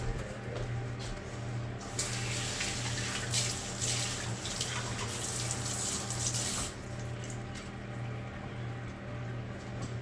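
Leeks rinsed under a running kitchen tap, a steady close hiss of water splashing into the sink that briefly grows louder and fuller in the middle before settling back.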